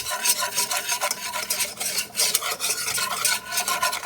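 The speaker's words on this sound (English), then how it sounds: "And you want to whisk it together." A whisk scraping rapidly through a roux with seasonings in a pan, a close, rough rasping rhythm of quick strokes with a faint sizzle underneath, no voices.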